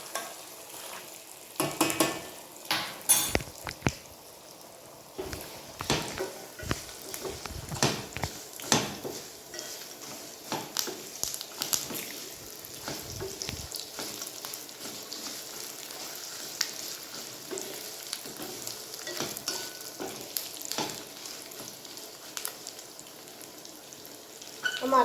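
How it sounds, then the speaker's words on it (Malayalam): A spoon stirs lentils and peanuts roasting in a pan for tamarind rice, with repeated scraping strokes over a soft, continuous sizzle, near and unaccompanied by talk. "പരിപ്പും കപ്പലണ്ടിയെല്ലാം നന്നായിട്ടൊന്ന് മൂത്തും വരണം. ഇത് ഇടയ്ക്ക് ഞാൻ ഇളക്കി കൊടുക്കുന്നുണ്ട്."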